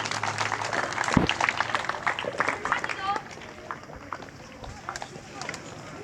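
An audience at a deforestation seminar in a government high school in Mianwali claps for an arriving assistant commissioner, a dense patter of applause over the first few seconds that thins out, with someone talking over it.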